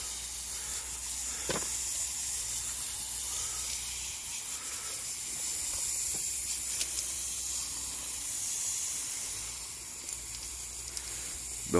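A water jet sprays onto a facade render, producing a continuous broad hiss that holds steady for several seconds, with a few faint knocks and shifts in pressure and no talking.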